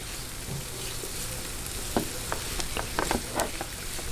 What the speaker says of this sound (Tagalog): Ayan, medyo lang po gisa-gisahin natin. Hintayin lang, hintayin lang po nating mag light brown.